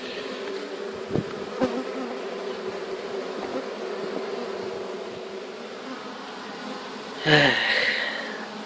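Honey bees drone steadily around a hive at the edge of an apiary, a continuous close buzz with a few brief ticks, then one bee passes very near, louder for about a second before fading.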